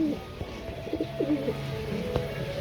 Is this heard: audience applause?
no